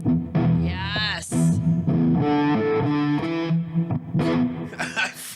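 An electric guitar plays a riff through effects with heavy reverb, its sustained, bending distorted notes ringing loudly and continuously.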